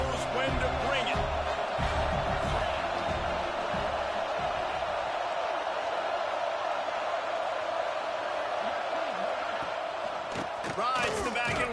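A packed football stadium crowd roars during a USC versus UCLA game, a loud sustained wall of cheering that swells near the end, with a commentator talking over it throughout.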